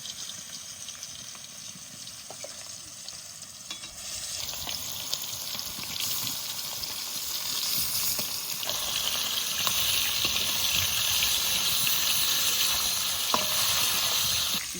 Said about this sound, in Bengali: এবার বাম মাছ দিয়ে রসা করার জন্য মাছগুলো ভেজে নিচ্ছি।